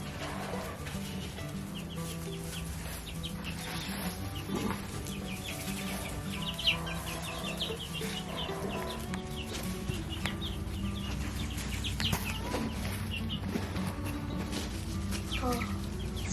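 Several chickens clucking and pecking while being hand-fed in a garden, soft busy clucks and chatter close by, with a person talking at times.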